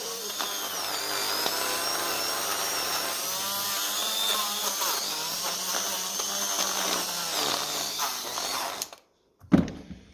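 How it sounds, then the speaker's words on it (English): A parts washer motor and pump whine steadily while cleaning a 1950 Lucas D3A4 distributor casing, then cut off abruptly, followed by a brief knock and rattle nearby. "It'll go in the parts washer then, just to get any of that loose stuff off."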